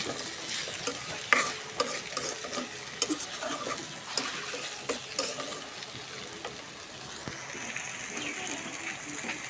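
Fried fish and fried bori being mixed into cooked vegetables in a pan, close, repeated scraping stirs and clatters over a continuous frying sizzle that settles into a steadier hiss toward the end.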